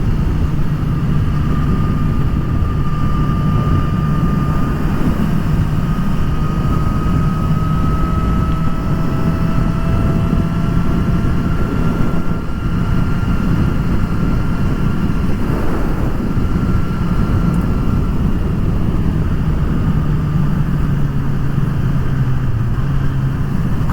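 A Suzuki Katana 1000 motorcycle with its standard exhaust runs steadily, giving a loud, continuous, even engine drone with a low rumbling tone and no changes in pace, and no voices.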